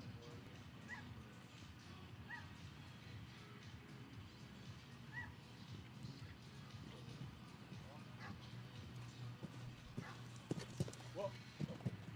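Hooves of an 11-year-old chestnut mare, DSP Callas, thud softly at a 1.50m FEI 5* show jumping round, with irregular distant clip-clop beats under a quiet arena murmur and occasional louder knocks near the end.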